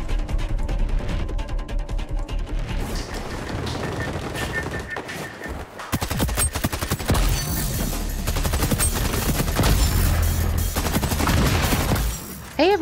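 Gunfire from XDefiant weapons, the PP19 SMG, L86 LMG and Spaz-12 shotgun, in loud, dense, rapid automatic bursts and heavy blasts that run almost nonstop, close and punchy.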